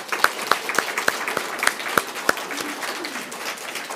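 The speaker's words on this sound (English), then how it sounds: "let's give them a round of applause" Scattered, sparse audience applause in a meeting room, a handful of distinct nearby claps at first that thin into a softer patter before fading.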